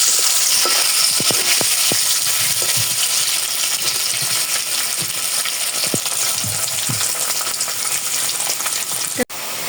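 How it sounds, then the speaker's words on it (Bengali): Paneer frying in oil in a pan, a loud, steady, close sizzle throughout, with scattered light clicks and taps from stirring or moving the pieces. "আগে যে পনিরটা ভেজে নিচ্ছি।"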